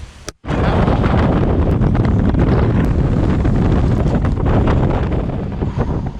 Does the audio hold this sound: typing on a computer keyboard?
no